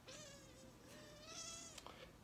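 A cat meows indoors in one long, drawn-out cry with a rising and falling pitch, followed by a short second sound, fairly faint and heard alone without talking.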